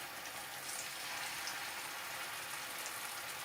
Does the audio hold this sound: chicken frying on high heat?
yes